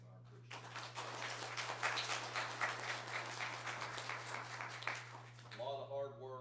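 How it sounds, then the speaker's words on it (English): A church congregation gives a round of applause, a sustained wash of clapping that swells and then tapers off into speaking, with a low electrical hum underneath throughout. "we just give them a little round of applause to show them our appreciation"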